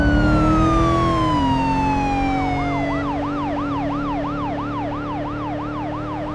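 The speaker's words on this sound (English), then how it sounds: "just like a police siren dropping in pitch as it speeds away" A police siren wails in a steady up-and-down pattern over a low engine drone, its overall pitch sliding downward as the vehicle passes and moves away; loud and close, no voices.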